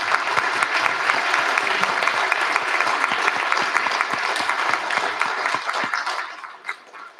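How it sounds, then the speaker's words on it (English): A council chamber audience gives sustained applause for an outgoing mayor, a dense, even patter of many hands that holds steady and then tapers off toward the end. "She always gets very bashful when we clap at her."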